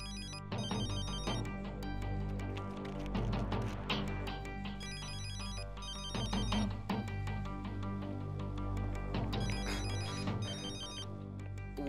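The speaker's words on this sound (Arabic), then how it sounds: "موبايلك عم يرن" Mobile phone ringing with a repeating melodic ringtone in regular bursts, moderately loud and steady with no voices.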